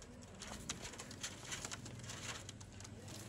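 Flying pigeons, Sialkoti breed, coo softly and faintly in a steady low murmur against a constant noisy background, without speech.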